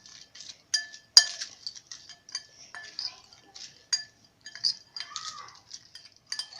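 Crushed Lay's chips are being mixed in a bowl with a spoon, making light, irregular clinks and crisp rustles that come close together and sound close by.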